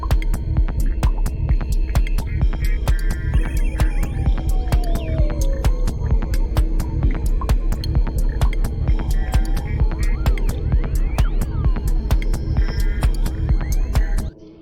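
A light percussion loop plays a steady, dense pattern of quick hits over a constant low throbbing hum, running evenly and loud throughout without any talking.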